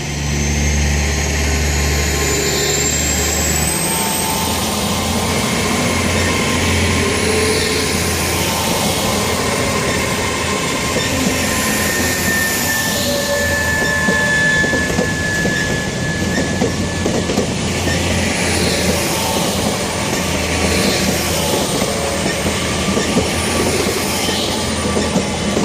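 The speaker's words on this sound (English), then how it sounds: "got the London passenger train now departing" A Class 800 London passenger train pulls out of Exeter St David's station on the Great Western Main Line in the evening: a steady close rumble with rising traction whine and continuous wheel-on-rail clatter, no voices.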